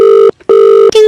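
Electronic telephone ring sounding loud and close, two steady tonal bursts separated by a brief pause, with a third starting at the end.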